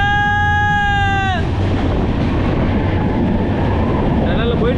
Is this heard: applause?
no